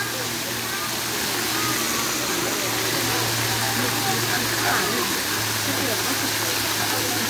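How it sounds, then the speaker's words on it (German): Steady rushing water from a waterfall beside the flamingo area at the zoo in Agadir, a continuous broadband splash heard from nearby, with someone talking over it. "Hier ist hier vorne der schöne Wasserfall."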